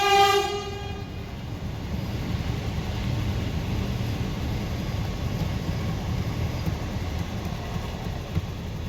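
A train rumbles past close by, a steady broad roar after a brief horn blast at the start.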